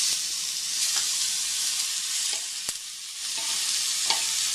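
Small pieces of bacon frying in a pan over low-medium heat, a steady close sizzle and crackle with occasional stirring clicks, no one talking.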